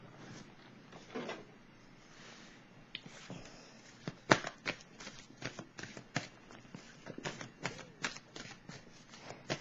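Tarot cards shuffled and laid down, with quiet riffling and a run of sharp, close card slaps and flicks in an irregular rhythm, no voices.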